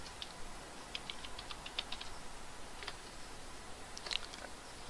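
Someone types a password on a computer keyboard: soft, quiet key clicks in irregular short bursts, with a slightly sharper tap near the end and no talking.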